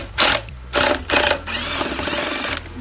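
A screwdriver or drill breaks loose a screw under the handle of a miter saw during a cord replacement, giving three short whirring bursts followed by a longer steady run, close and fairly loud.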